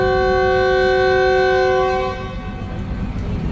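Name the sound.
train departure horn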